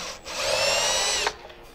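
A power drill drives screws into the front of a plaster mold setup for a latex Halloween mask, a single steady whirring run of about a second, close and fairly loud, stopping abruptly.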